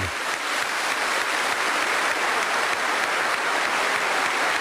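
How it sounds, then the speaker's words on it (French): Sustained, dense applause from a large assembly at the swearing-in of King Albert II of Belgium in 1993, an even, continuous roar of many hands clapping with no voices standing out. "Nombreux applaudissements"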